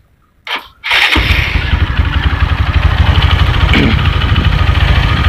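A bored-up Megapro/Verza motorcycle engine cranks on its electric starter with a short whir, fires, and settles into a loud, steady, close idle.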